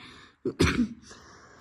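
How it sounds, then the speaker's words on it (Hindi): A single close cough, a short harsh burst with a small follow-up, in an otherwise quiet room. "ये तबीयत देखो, बोलने के बाद खांसी"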